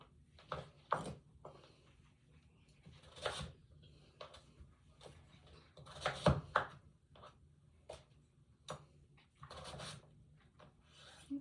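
Squash is cut into even pieces with a knife on a cutting board: a run of crisp, irregular chops and blade knocks, close and fairly quiet, with no talking.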